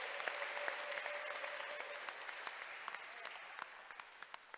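A church congregation claps during a Sunday service, giving a round of applause for the Lord. The clapping is fairly faint and distant, a dense patter with a few sharper claps that thin out toward the end.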